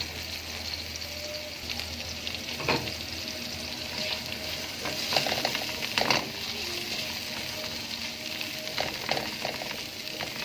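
Soft, steady sizzling of garlic in a hot pan, with occasional scraping and stirring sounds of a utensil against the pan, quiet and close.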